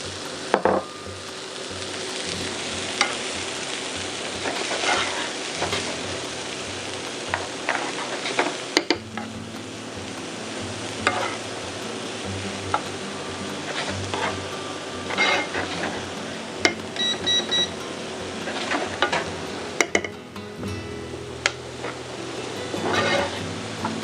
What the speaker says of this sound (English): Half the butter goes in. Leeks straight in.